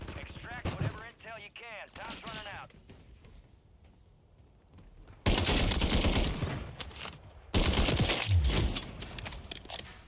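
Bursts of MTZ 762 rifle fire in the Warzone video game come in two loud, dense volleys of rapid shots, separated by quieter stretches of game sounds and brief voice chatter.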